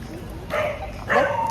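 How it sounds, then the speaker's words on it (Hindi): Dogs barking at night, two sharp barks close by against a steady outdoor background. "ये कुत्ते भी बावले हो गए, बेफालतू में भौंक रहे हैं।"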